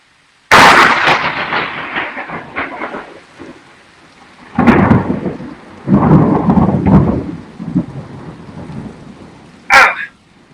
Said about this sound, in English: That's the kind of storm I remember as a kid.